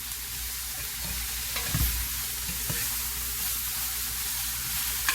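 Broccoli and mixed vegetables fry in a hot pan with a steady, even sizzle, broken by a couple of dull knocks and scrapes as they are stirred together; no one speaks.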